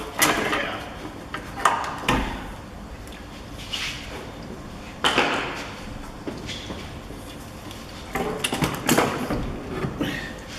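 An old car battery wiggled loose from a Mini Cooper R56 engine bay, giving scattered close knocks, scrapes and clunks of plastic and metal at an uneven pace, with no voices.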